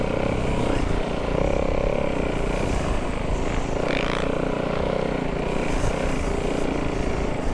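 A snow bike's engine runs steadily and loud throughout, a continuous droning motor with a brief rising rev burst near the middle, no voices present.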